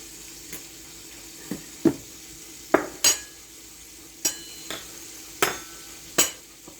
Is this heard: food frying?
yes